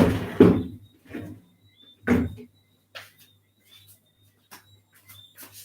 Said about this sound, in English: I'm going to go open the window so Susie can hear the crickets.